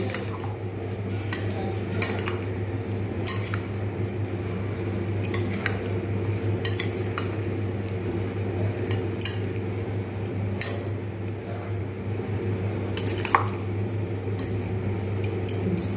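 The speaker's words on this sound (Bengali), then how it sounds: "এইরকমভাবে আমি কিন্তু খুব ভালোভাবে এটাকে মিক্স করে নেবো" A spoon stirs spiced sabudana in a metal bowl, giving steady close clinks and scrapes that repeat throughout with no talking.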